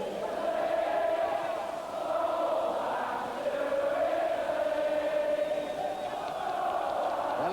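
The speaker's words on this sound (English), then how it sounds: "And now the crowd singing, "Go back to Italy."" Football crowd at Anfield, Liverpool, singing together to the tune of Santa Lucia after a goal, a sustained massed chant filling the ground with steady loud voices and no single speaker.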